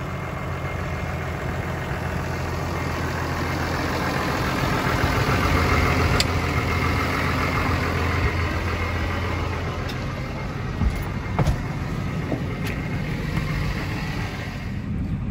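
A tractor steadily pulls a float across a corn field strewn with root balls to smooth it off, its engine droning low and constant throughout with a few faint knocks, no voices heard.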